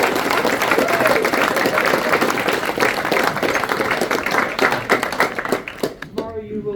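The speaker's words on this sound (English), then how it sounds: "So a big round of applause for them." Audience applause at a conference chairman's reception in Liverpool, a crowd clapping steadily for several seconds before it thins out into scattered claps near the end.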